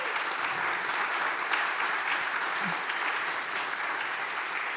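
Audience applause at a startup demo day, a steady, fairly soft wash of many hands clapping that carries on evenly with no voices over it.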